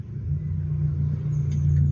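Two police cars pass close by, a steady low engine and road rumble that swells slightly toward the end, with a faint high tone near the close.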